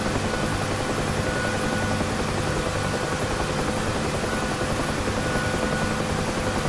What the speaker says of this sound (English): Increasing the collective, see what the helicopter does.